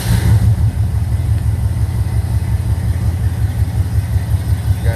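A 1969 Trans Am tribute engine on a cold start, fed only by fuel poured into the carburetor, idles loud and close with a lumpy, pulsing rumble.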